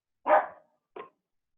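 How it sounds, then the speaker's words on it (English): A dog gives two sharp, close barks, the first louder and longer and the second short, with silence around them. "Sorry, the dog was barking."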